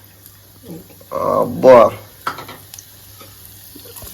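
Mustard seeds, fenugreek and cumin tempering sizzle and crackle as they hit hot oil for a mango prawn curry, a loud burst of frying under a short exclamation from a woman.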